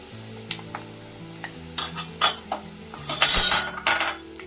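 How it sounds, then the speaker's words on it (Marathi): Corn kebabs frying in oil over a low gas flame, with a soft sizzle beneath clinks of a utensil against the pan, building to a brief louder burst of frying near the end. "गॅसची फ्लेम मंद करायची आणि मंद याच्यावर तळून घ्यायचे"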